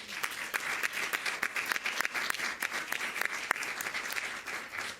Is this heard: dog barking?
no